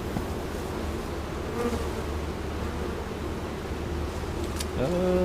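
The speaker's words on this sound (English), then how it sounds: "there is a ton of bees up in here" Dense, steady buzzing of many honey bees in a hive close by, a continuous droning hum that swells slightly near the end.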